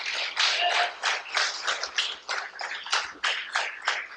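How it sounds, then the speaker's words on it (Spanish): A church congregation claps together after a call during a sermon, a dense, steady crowd applause with rhythmic swells that carries on for several seconds, fairly close and loud, with no speech over it. "Dele un aplauso a Cristo."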